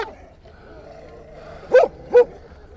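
East Siberian Laika at a hunting-dog show in Yakutia gives two sharp, loud barks in quick succession near the end, after a quieter stretch of faint background murmur.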